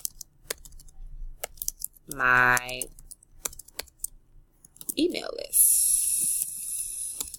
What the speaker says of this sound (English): Why am I typing like this today?